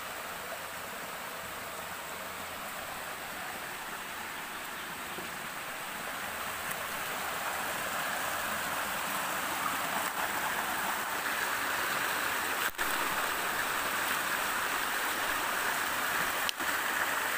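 A river stream flows steadily through woodland while walking upstream, a continuous broadband rush with no talk that grows slightly louder partway through.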